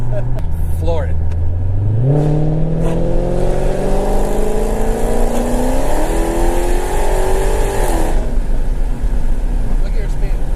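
Full-throttle run in a Dodge Hellcat: the engine note sweeps sharply upward and holds a loud, rising roar for several seconds before easing off, heard from inside the car with occasional voices.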